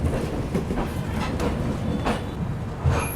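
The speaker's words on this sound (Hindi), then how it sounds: "बहुत ही गजब की रफ्तार में ये भागती है गाड़ी" Duronto Express train rushing along at high speed on the Pune to Hazrat Nizamuddin route, a steady loud rumble of wheels on rail with rhythmic clickety-clack joint beats, heard from inside the moving coach with no talk.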